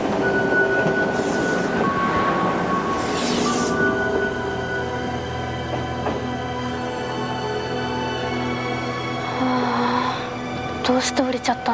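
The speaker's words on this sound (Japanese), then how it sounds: "今の電車が発車いたします" Japanese commuter train pulling away from a station platform, with a steady rumble, door chime tones and a platform announcement, while people talk over the noise; sharp clicks near the end.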